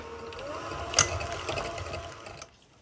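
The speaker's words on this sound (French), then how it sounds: "moi j'ai pris un batteur, vous pouvez bien évidemment le faire au fouet ou avec une spatule" An electric hand mixer beats sweet potato pancake batter with a close, steady motor whir lasting about two and a half seconds before it cuts off.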